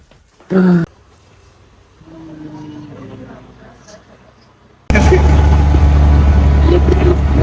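An auto rickshaw ride starts quietly with a brief voice and faint murmurs, then a loud, close, droning engine rumble takes over for the last few seconds.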